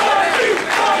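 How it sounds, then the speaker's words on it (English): Pro wrestling crowd in Bethany, Connecticut roaring and cheering in a standing ovation, a loud dense burst of voices filling the hall for about a second. "A standing ovation from the crowd here in Bethany,"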